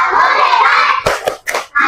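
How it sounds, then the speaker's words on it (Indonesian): Classroom of students performing a rhythmic clapping cheer, a burst of chanting followed by a few sharp, loud, closely spaced claps in a patterned beat. "kasih tepuk hebat dulu"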